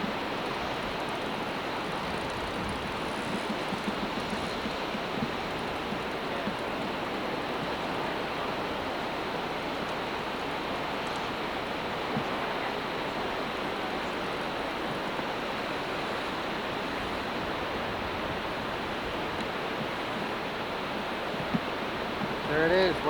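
Niagara Falls pours in a steady, dense roar of crashing water, a broad unbroken wash of noise that holds at an even level throughout with no clear voices on top.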